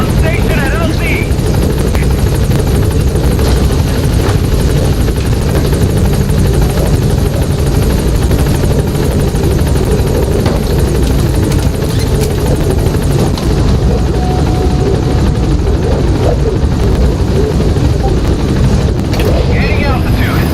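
The Pequod helicopter arrives at a landing zone in Metal Gear Solid V: The Phantom Pain, its rotor roar loud, close and constant throughout, with radio voice chatter over it.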